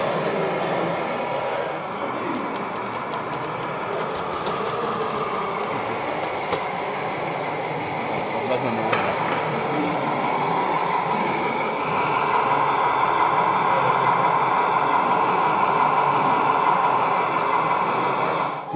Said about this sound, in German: Diese V100 ist eine ganz normale Märklin mit einem ESO-Decoder allerdings umgerüstet.